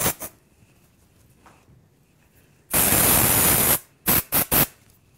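Dry shampoo sprays from an aerosol can into hair during curl styling: one long, loud hissing burst, then three short quick spritzes, each alone against quiet.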